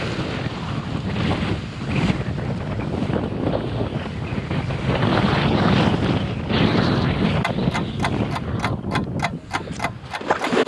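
Strong wind gusts roar over crashing ocean waves during a kitesurfing session, with buffeting microphone wind noise throughout and a rapid series of sharp rattling flaps near the end.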